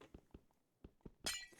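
Glass blocks breaking in Minecraft: a quick series of faint clicks and taps, then a louder crisp shattering burst near the end, with no talking.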